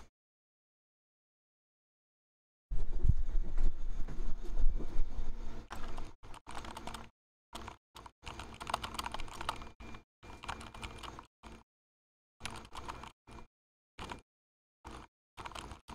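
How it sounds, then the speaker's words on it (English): Typing on a mechanical keyboard with Gateron Black switches begins after a few seconds of silence: dense, close clacking keystrokes that later break into shorter separated bursts. "I'm just gonna sell out and be ASMR typing now."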